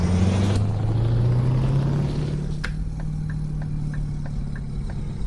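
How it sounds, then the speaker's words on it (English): A truck engine in the video game Euro Truck Simulator 2 rumbles as it slows from a strained drone to a steady idle, followed by a series of evenly spaced clicks. "Only truck sounds."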